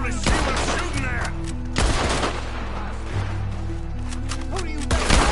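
Gunfire in the video game Red Dead Redemption 2: a loud, dense fusillade of overlapping rifle and pistol shots with heavy booms, firing almost continuously over a rumbling background.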